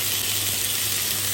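Mushrooms frying in a pan that was just used for chicken fillets, giving a steady, even sizzling hiss that stays close and constant throughout.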